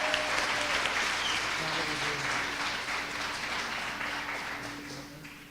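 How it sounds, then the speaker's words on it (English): Audience applause for elementary students at a 2016 MLK event, a sustained round of clapping that slowly fades, with a voice faintly heard over it. "How about another round of applause for our elementary?"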